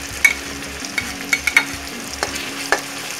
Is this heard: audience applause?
no